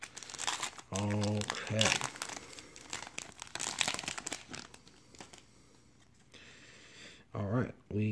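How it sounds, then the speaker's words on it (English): Foil packs of 2014 Topps Strata football trading cards being ripped open, with bursts of crinkling and tearing that alternate with someone talking close by. "Let's start ripping some packs."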